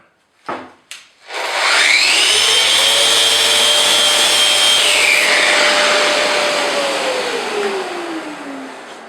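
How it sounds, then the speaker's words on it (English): Power tool running in rotary mode, grinding away excess filler on a wooden gothic bench; it winds up quickly, holds a loud steady whine with a high tone for several seconds, then slowly winds down. "I'm going to go round and remove all of the excess filler now, and then I'm going to try and do a little bit of detail work in rotary mode"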